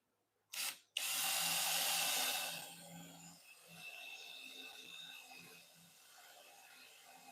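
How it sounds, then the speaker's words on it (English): A power drill bores a hole through a hardwood mallet in a workshop, starting with a brief whir, then a sustained loud grinding that tapers into a lower rough drone. "I'm making this final cut to give this thing a little final drill hole"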